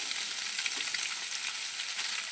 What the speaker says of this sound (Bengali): আমি সয়াবিনটা সর্ষে তেলে রান্না করছি